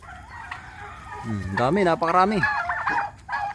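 Several turkeys call with harsh, warbling gobbles in a close cluster of loud bursts, with a rural Filipino farmyard setting and someone speaking briefly over them.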